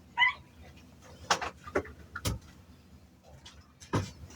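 A dog yelps in short, scattered high cries during rough play, heard indoors at moderate distance with a few thumps between them.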